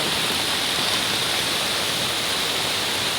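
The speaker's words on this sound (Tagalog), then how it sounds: "Sapa yan siya. Isang malit lang na sapa." A small swollen stream in a flood-prone area after heavy typhoon rain rushes in a steady, loud, broadband hiss of churning water, unbroken and close, with no voices.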